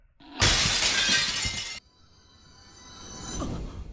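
A loud burst of glass-like shattering from Zelda: Breath of the Wild, a dense crash lasting over a second that cuts off abruptly, followed by a fainter shimmering tail.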